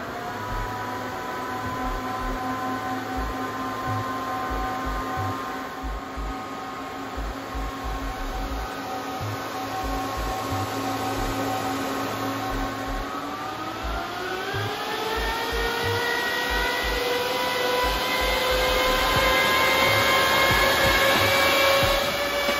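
Bitmain Antminer L7 crypto mining machine runs with a loud, steady fan whine and hum, its pitch rising partway through as the fans spin up, close and continuous with no talk.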